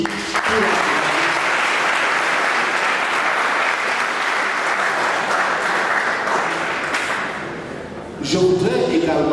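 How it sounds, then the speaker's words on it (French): Alumni fill a hall with sustained, dense applause at a school's silver jubilee celebration, with steady clapping for about eight seconds before it breaks off into a few louder thumps and scattered noise. "Donc je voudrais vous inviter les anciens à applaudir."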